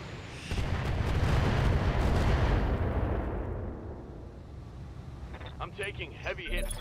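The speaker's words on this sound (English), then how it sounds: "That is a mortar." A heavy mortar blast from a BattleTech mech combat mod, set in 3061, booms loud and close, then rolls into a long, slowly fading rumble with faint crackles near the end.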